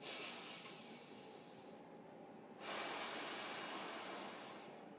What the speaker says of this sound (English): take 3 big inhales and exhales